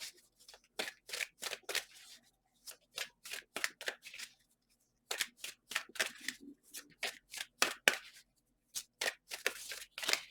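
Tarot cards riffle and snap in quick repeated bursts, with short pauses between shuffles; close and fairly quiet.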